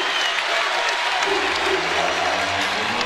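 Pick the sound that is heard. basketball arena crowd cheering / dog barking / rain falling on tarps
basketball arena crowd cheering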